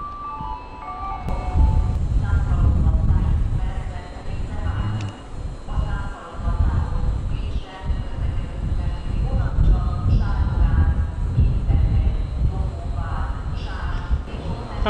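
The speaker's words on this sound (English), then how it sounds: "that train I think has come from Kőbánya Kispest, so it's come through the Keleti lines" A train rumbles through a Budapest station on the line from Kőbánya-Kispest, a loud low continuous roll with rattling wagons under close conversation.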